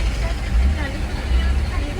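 Traffic crawls on the jammed Mumbai–Ahmedabad highway, with a steady low rumble of buses, cars and trucks nearby. Faint background voices blend into the engine noise.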